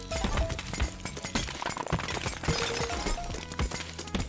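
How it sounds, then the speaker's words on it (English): Glowing piggy banks being smashed in the video game Bills Must Be Paid: a rapid series of sharp shattering cracks and glassy clinks, many hits in quick succession, fairly close and clear. "Let's break some glowing piggies"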